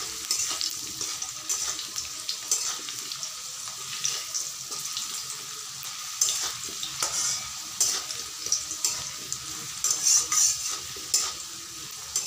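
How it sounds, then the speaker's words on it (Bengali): Potato pieces frying in oil for Bengali chicken kosha, a close, steady sizzle broken by repeated scraping and stirring clatters of a utensil in the pan, no talk. "তো আলুগুলো তো ভাজা হয়ে গেছে, তুলে নিব এখন আমি।"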